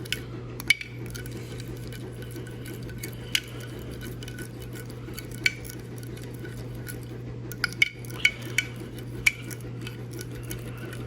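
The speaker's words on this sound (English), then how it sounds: "I just want to give it a stir until the honey crystals kind of melt." Marinade of chili garlic sauce and honey stirred in a bowl until the honey crystals melt: a steady, close scraping swirl with occasional sharp clinks of a utensil against the dish, and no talk.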